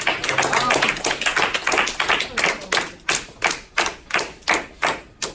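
Students in a grammar classroom get a round of applause: a thick burst of clapping at first that thins into slower, separate sharp claps, close and fairly loud.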